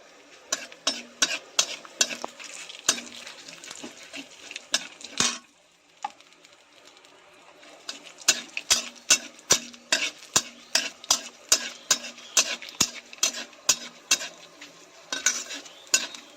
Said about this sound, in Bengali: এবার আমি তেলের ওপরে কিছু জিরে এক চামচ জিরে দিয়ে দিলাম একটু এলাচ দারচিনি আর তেজপাতা